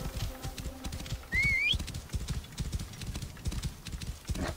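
Horse hooves in the Assassin's Creed Origins video game: a rhythmic, close clip-clop of a galloping horse runs steadily throughout, with a brief whistle-like call layered in near the start.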